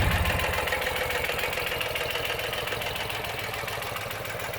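A 2009 Ural GearUp motorcycle engine idles with the enricher pulled, a steady rapid low thumping and knocking throb that stays loud and close throughout.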